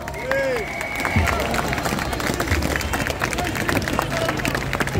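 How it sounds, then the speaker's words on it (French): A crowd at the end of a street rally applauds the volunteers, with dense continuous clapping mixed with scattered voices and a public-address speaker talking over it. "On peut applaudir une nouvelle fois tous les bénévoles très"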